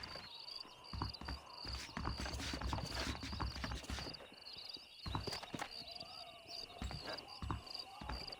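Horses walking in the video game Red Dead Redemption, a steady clip-clop of hooves with crickets chirping constantly behind, moderately close and quiet, with occasional faint voices.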